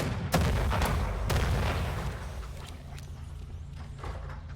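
Repeated gunshots from a revolver-style weapon in the video game Weird West, sharp cracks over a dense, rumbling game soundscape, loud at first and settling into a steady background din.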